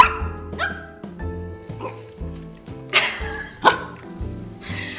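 A dog barks in short, repeated yips amid background music, with a few sharper yelps standing out.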